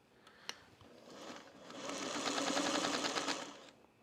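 A home sewing machine stitches a test piece after a bobbin change, a faint click first and then a rapid, rising mechanical whir that runs about two seconds before tapering off.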